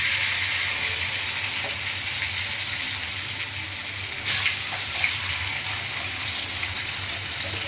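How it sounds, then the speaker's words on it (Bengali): Marinated chicken fries in oil in a kadai, giving a loud, continuous hiss of sizzling that stays steady throughout, with a brief crackling flare partway through. "এবার চিকেনগুলো আমি কড়াইতে তেল নিয়ে নিয়েছি, নিয়ে এগুলোকে ফ্রাই করে নেব।"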